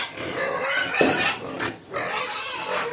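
Native pigs and piglets on a farm at feeding time, grunting and letting out sharp squeals in loud, overlapping bursts close by.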